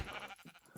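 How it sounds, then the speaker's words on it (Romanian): Sheep bleating in the Minecraft video game, a short run of a few wavering bleats close up, fairly quiet, with no talk over them. "Da, oițele astea."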